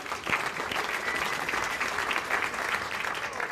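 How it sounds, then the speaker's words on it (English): An audience at a comedy roast applauds a guest, a steady, fairly quiet wash of many hands clapping that holds evenly throughout with no speech on top. "Round of applause for Patrick Austin"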